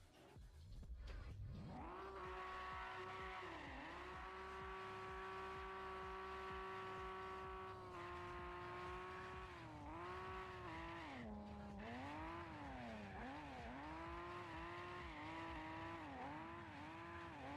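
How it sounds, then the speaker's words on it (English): A car drifting in the racing game Apex Point holds a sustained, loud engine drone with long tire squeal. Pitch rises and dips repeatedly as it slides through turns, with no speech. "let's drive this bad boy out and let's do a drift event"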